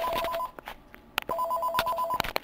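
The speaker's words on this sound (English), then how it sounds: "My phone was ringing." A phone rings nearby in two electronic trilling bursts separated by a short gap, with faint clicks and room noise in between, and no talking.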